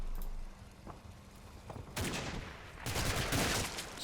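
Sustained gunfire from the wargame Combat Mission: Battle for Normandy, starting faint and distant and then swelling into a louder, continuous crackle of rifle and machine-gun fire.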